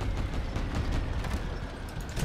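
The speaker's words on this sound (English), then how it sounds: "Dumb bot shooting artillery at me over here." Artillery fire from a bot in the vehicle combat game Crossout, a dense, continuous rumbling barrage of booms with no talking.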